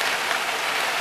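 Heavy hurricane rain driven by wind pours steadily against a house during Hurricane Irma, a dense, continuous hiss with no gaps, loud and close.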